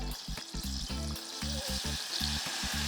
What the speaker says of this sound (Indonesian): kita bakalan bikin roux, yaitu pengental dari saus bechamelnya